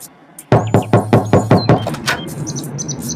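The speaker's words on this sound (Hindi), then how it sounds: "दोबारा दरवाजा खटखटाता हूँ।" Seven quick, loud knocks on a wooden door ring out close up, followed by a few chirping bird calls in the background.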